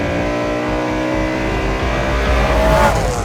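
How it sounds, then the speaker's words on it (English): A stock BMW M3 revs hard, its engine induction giving a loud, close bellowing wail that climbs steadily up the rev range and swells near the end. "it's the induction noise that I'm listening to"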